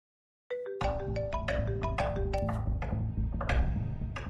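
A bright electronic ringtone begins after a brief silence, chiming a quick repeating melody, loud and close.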